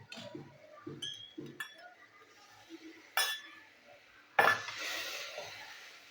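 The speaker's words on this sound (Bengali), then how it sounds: "এই মশলাগুলো আমি ভালো করে কষিয়ে নেবো" Close, fairly quiet clinks and scrapes of a utensil against a pan as spices are stir-fried for a chicken dish, with a sharp metallic knock partway and a brief burst of sizzling near the end.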